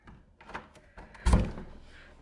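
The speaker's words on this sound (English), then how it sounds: "Can you open the door?" A house door is pushed with a single dull thunk partway through. Softer bumps and handling noises come before it, at a moderate, close level with no speech.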